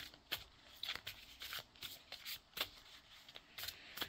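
Tarot cards shuffled and handled at close range, a steady run of soft papery riffles and flicks with sharp card snaps, quiet and uninterrupted by speech.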